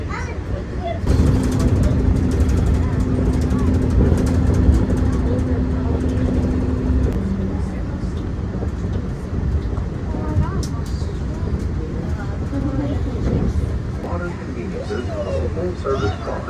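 A steady rumbling ride inside a moving Walt Disney World monorail, with continuous mechanical hum and a sustained tone partway through, a muffled voice occasionally audible.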